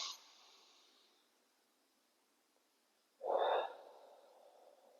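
A deep breath out during a barre posture exercise, with one long exhale fading at the start and a strong, forceful blow of air a few seconds later, close and alone.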